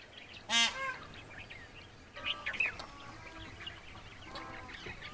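Peafowl call in the dry forest of Sariska Tiger Reserve in the Aravalli hills: a loud, sharp honking cry near the start, then two fainter calls a little later over a quiet outdoor background.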